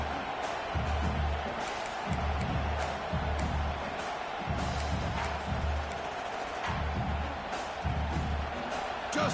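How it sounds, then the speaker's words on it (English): A fired-up home crowd at a college football game gives off a steady, dense roar from start to finish, with heavy low thumps pulsing underneath in a loose rhythm. "this home crowd is fired up and ready to make a difference today"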